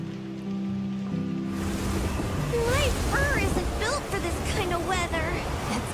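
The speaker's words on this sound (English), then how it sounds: "causing the water currents to surge too" Surging water currents rush through a forest in Monster Hunter Wilds, a broad steady wash of water heard with a voice speaking over it and chirping calls around.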